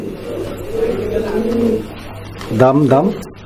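Two pigeons offered for sale, with Lahori pigeons among the birds nearby, coo in low rolling phrases at close range, and a voice briefly joins near the end.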